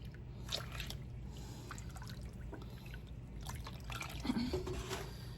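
Two cups of milk pour for a chocolate eclair cake, a soft, steady trickle and splash heard close over a hissy kitchen background.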